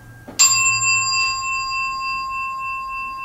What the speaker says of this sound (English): And then another day, another bell.